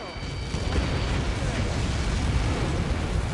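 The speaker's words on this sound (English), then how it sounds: "How many got caught in that explosion?" A huge explosion in the aerial combat game Ace Combat 7 rolls out as a sustained deep rumble, loud and continuous for several seconds with no distinct separate blasts.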